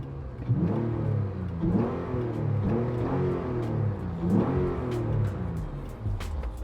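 A car engine fitted with bolt-on upgrades revs repeatedly in short, rising bursts over a steady idle, loud and close, with no voices.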